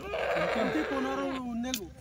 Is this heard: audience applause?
no